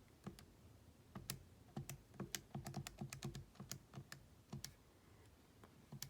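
Calculator buttons pressed to enter values for a geometric series problem: a run of light, sharp plastic clicks, irregular and close, clustered through the middle of the stretch with quiet gaps before and after.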